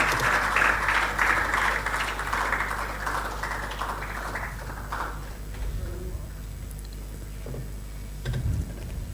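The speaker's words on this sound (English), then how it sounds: "Keep clapping, please, until they are seated." Audience applause in a conference hall, a broad wash of clapping that is strongest at the start and gradually thins and fades over several seconds.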